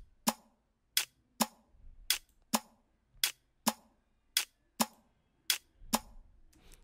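An afrobeats percussion loop plays on its own: quiet, sharp clicky hits in a syncopated, uneven pattern over a faint low background.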